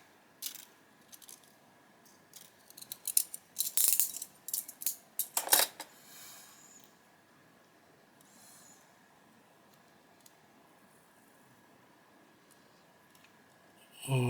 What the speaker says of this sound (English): so I'm just gonna cut it off close to the edge